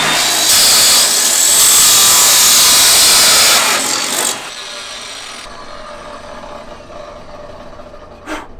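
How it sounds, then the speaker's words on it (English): A saw cuts loudly through a Ford Mustang GT exhaust pipe for about four seconds in a steady, harsh rasp, then the noise drops away to quieter background hum with a brief knock near the end. "I'm gonna go ahead and cut the other side"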